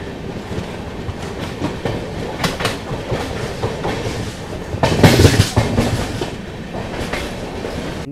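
The Vikramshila Express runs along the rails with a continuous rumble and rhythmic clickety-clack of wheels over joints, swelling into a louder rattling burst midway before settling back.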